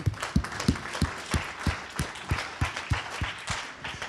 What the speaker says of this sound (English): Please, let's give all of them another applause,